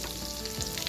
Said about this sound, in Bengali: দেখো এখানে চলছে আমাদের কাবাব ভাজা।